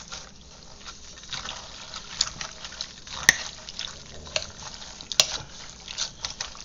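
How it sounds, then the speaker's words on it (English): Homemade baked beans stirred in a pot, a soft, continuous scraping and wet swishing with faint liquid sloshing and a couple of sharp clinks of the spoon against the pot rim. "We'll give her a stir up here now."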